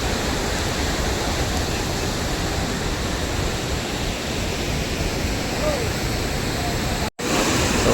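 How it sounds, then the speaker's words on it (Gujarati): Water rushes loudly and steadily at Galdhar waterfall in a continuous roaring wash, broken by a momentary cutout near the end. "મારી પાછળ કેટલું પાણી છે જોવો તમે"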